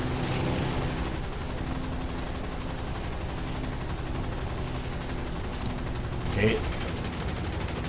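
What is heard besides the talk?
machine gun fire in the video game War Thunder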